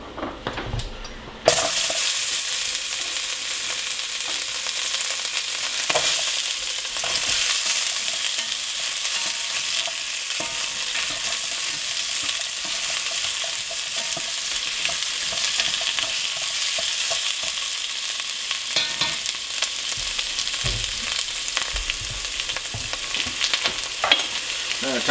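Carrots sizzle and fry in a hot pot for a pot roast, a loud continuous crackle that starts abruptly and runs steadily, with occasional stirring scrapes and clinks against the pot.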